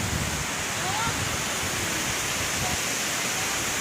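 Kuang Si waterfall in Luang Prabang, Laos, roaring as a steady, dense rush of falling water that fills the whole scene at an even loudness, with no breaks or distinct splashes.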